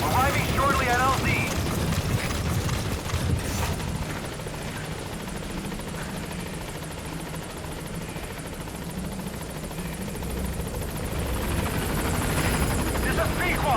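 A helicopter in Metal Gear Solid V arrives at a landing zone with a loud, steady rotor roar and thumping, easing slightly midway, while voices speak over the noise.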